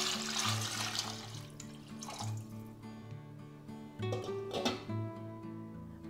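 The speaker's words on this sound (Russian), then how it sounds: "Заливаю водой." Water pours into a 3-litre pot holding small chicken thigh pieces, a steady splashing stream with gurgling bursts that swell and ease, close and fairly quiet.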